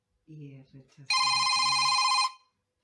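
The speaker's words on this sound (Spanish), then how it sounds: "¿Cómo hago para que no suene el teléfono?" A telephone bell rings in one sustained, bright electronic trill, loud and close, beginning just as a voice speaking fades out and cutting off abruptly after about a second.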